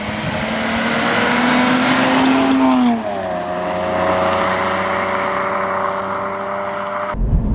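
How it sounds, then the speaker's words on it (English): Cadillac ATS-V's twin-turbo V6 on the road, engine note rising under acceleration, dropping through a gear change, then holding a steady drone before abruptly cutting out. "the sound of the V6 bi-turbo,"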